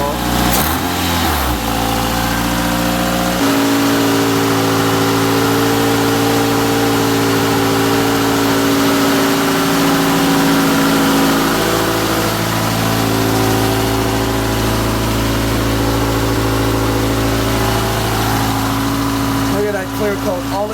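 A Toyota AE86 Corolla GT-S engine idles steadily for about twenty seconds, a loud, constant mechanical drone with a possible exhaust manifold or intake leak, starting with a brief rev or starting burst before settling.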